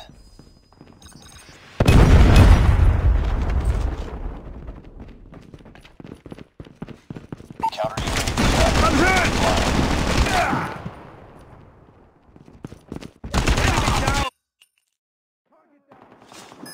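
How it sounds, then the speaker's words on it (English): A predator missile strike and gunfire in Call of Duty Mobile team deathmatch multiplayer: a loud booming burst, then a long stretch of rattling gunfire and explosions, another short loud burst, with quieter gaps between. "Predator missile inbound."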